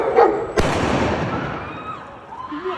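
Police fire a gunshot at a dog on a London street. A single sharp, loud crack stands out from the street noise, and a reverberant rumble trails after it.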